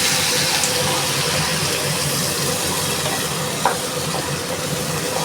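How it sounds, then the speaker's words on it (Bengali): Ground spice paste sautéing in a hot pan, a steady broadband sizzle and hiss that holds evenly throughout with a faint clink partway. "মশলাটা দেব, বেটে রাখা মশলাটা দিয়ে দিচ্ছি। ভালো করে এটা কষিয়ে নেব।"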